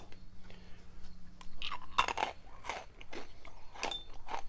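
Close, crisp crunching of someone biting and chewing hard, dry dehydrated figs, with several sharp bursts in quick succession and no talking.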